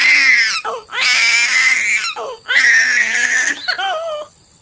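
A little girl cries in loud, sobbing bursts with wavering wails, separated by short catching breaths, close and alone until it fades out at the end.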